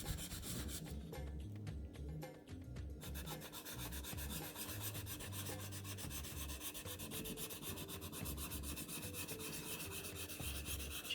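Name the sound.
rubbing razor in small circles on Shapton whetstone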